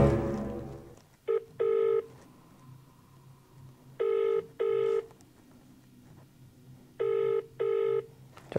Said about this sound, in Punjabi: ਪਹਿਲਾਂ ਮੈਂ ਹੁਣ ਗਿੰਨੂ ਨੂੰ ਫੋਨ ਕਰਦਾ ਹਾਂ ਅਤੇ ਉਹਨੂੰ ਉੱਪਰ ਬੁਲਾਉਣਾ।